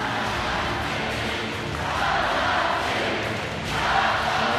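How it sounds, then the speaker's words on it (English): Russian home crowd cheering at a basketball game, a broad steady roar of many voices filling the arena, swelling slightly toward the end. "There's a look at the Russian crowd here, getting behind their team"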